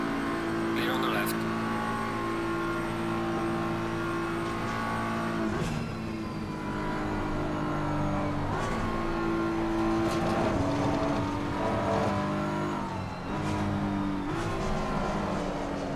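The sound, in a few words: race cars in the video game Assetto Corsa Competizione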